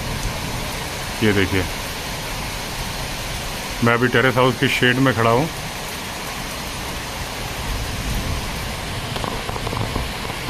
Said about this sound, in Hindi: झमाझम बारिश शुरू हुई है।